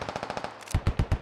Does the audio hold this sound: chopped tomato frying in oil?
no